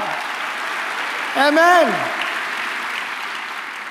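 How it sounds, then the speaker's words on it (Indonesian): Congregation applauding at a church opening session, a steady broadband clatter of many hands filling the whole stretch while a voice briefly calls out over it. "Tepuk tangan bagi Allah kita yang meriah."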